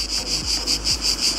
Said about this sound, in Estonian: siin puu vastas on kõiksed putukad, kes laulavad niimoodi